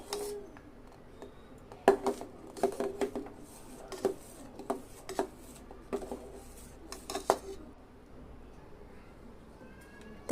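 Spoon stirring custard milk in a pot while it thickens for a sweet dessert, giving scattered close metallic scrapes and clinks against the pot in an irregular rhythm, with no voices.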